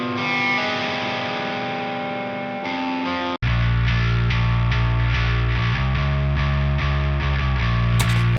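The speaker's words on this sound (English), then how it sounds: "Got some lead guitars." Isolated lead guitar stem from a song, distorted electric guitar with chorus-like effects holding sustained notes, then shifting into a thicker, driving riff that continues loud and dense.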